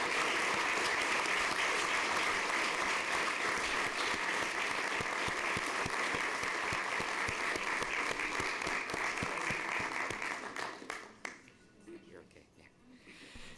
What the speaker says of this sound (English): Let's give them a round of applause because they work hard every day.